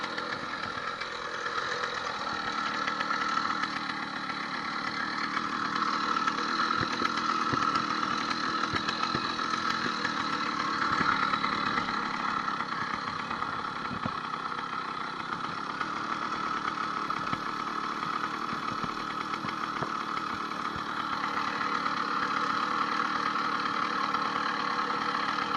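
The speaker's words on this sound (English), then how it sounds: "hear a dramatic difference in revving the motor." Small 80cc two-stroke engine on a motorized bicycle, recently fitted with an upgraded wrist pin bearing, buzzes steadily with a raspy tone and slight rises in pitch, moderately loud and continuous for the whole stretch, with no talking.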